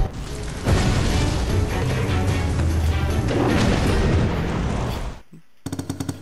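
In the video game Mark of the Ninja, a firecracker sets off a dense, loud crackling barrage of rapid bangs and crashes that runs for about five seconds before cutting off, followed by a few softer pops.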